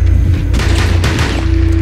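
Gunfire in the video game Rainbow Six Siege, loud booming shots with heavy low rumble and two sharper reports standing out over a constant hum.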